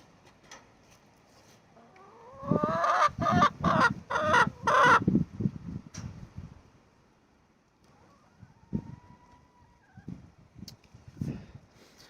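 Chickens cluck and call from a coop camera in a dense burst of loud, close squawks, followed by scattered softer clucks and quieter moments.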